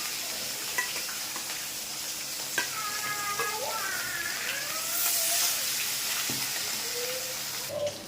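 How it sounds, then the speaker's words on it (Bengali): Fish frying in hot oil gives a continuous sizzling hiss with occasional stirring clicks, while faint background tones drift underneath. "এখন দিয়ে দেব মাছগুলো এইভাবে ভাজতে হবে"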